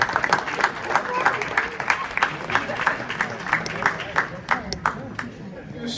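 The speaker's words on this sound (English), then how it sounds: "Yes, you may clap." An audience at a celebrity roast claps in a loose, rhythmic pattern, fairly loud and sustained, with crowd murmur and scattered voices mixed in as it gradually tapers off.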